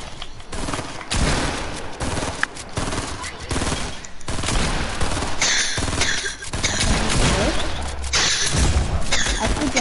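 Rapid automatic assault-rifle fire in a Fortnite match, dense bursts of gunshots running almost continuously throughout, loud and close, with players talking over the shooting.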